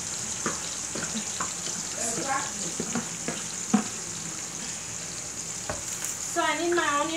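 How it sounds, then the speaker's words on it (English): Onions sizzle in hot oil in a pan for a Sierra Leone jollof rice sauce, a soft continuous frying hiss with occasional stirring clicks and a brief run of water near the end. "I'm going to be putting my onions in now. All of my onions."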